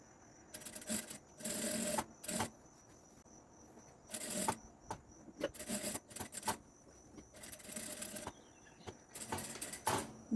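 A sewing machine stitches fabric in several bursts of rapid, whirring needle strokes with short pauses between them, close and fairly loud, including a quick reverse backstitch of a few stitches.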